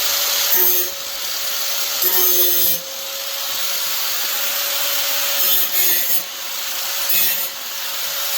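A cut edge of a Maax shower door part is deburred with a file in several short rasping strokes, close and fairly loud, with brief pauses between them and no talking.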